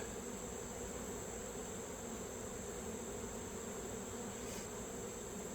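Honeybees in an open hive during an inspection, a steady, even drone of many wings holding for several seconds with no voices over it.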